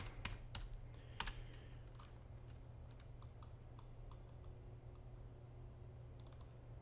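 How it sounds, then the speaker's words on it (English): Quiet typing on a computer keyboard while building a map in the Far Cry 5 map editor: scattered light clicks and short key bursts over a low steady hum, with no talk. "Now I gotta type in shelf again."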